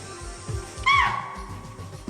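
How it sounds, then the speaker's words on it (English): A single cat meow, a short falling wail lasting about a quarter second, rises clearly above a soft, steady rhythmic background. "That's the cat sound."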